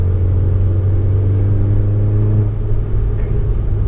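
A 2010 Volkswagen GTI accelerates with a steady, low engine drone heard from inside the cabin, then the throttle lifts and the note drops, with a faint short hiss near the end.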